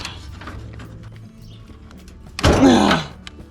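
The front clip of a 1968 Chevy C10 being pulled off, with quiet metallic clicks and scrapes followed by one loud heavy clunk and rattling metal near the end, close by with no talking.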